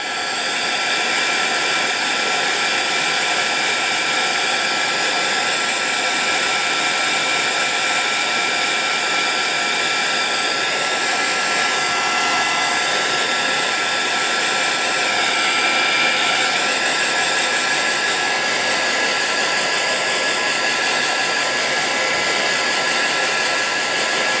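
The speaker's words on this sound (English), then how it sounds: "excuse my noise of my dryer" A hair dryer runs continuously at close range, a loud steady whooshing hum with a faint high whine, unchanging throughout.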